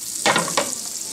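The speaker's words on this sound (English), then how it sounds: "olive oil can take a little more heat than the butter. And we'll get that going nice, get it all nice and melted." Butter and olive oil melt in a hot pan before braising rouladen, making a gentle continuous sizzle with two brief louder bursts of spitting, close by and without talk.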